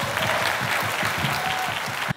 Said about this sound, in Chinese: 是不是可以拜托大家给台电一个掌声